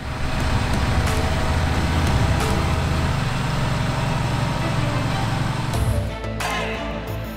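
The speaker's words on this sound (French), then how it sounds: "L'exploitation possède 2 de ces tracteurs XXL." A large Fendt tractor, the XXL 1050 Vario, working the soil with a 12.4 m Dalbo seedbed combination, a steady heavy engine drone with rumbling implement noise throughout, easing slightly near the end.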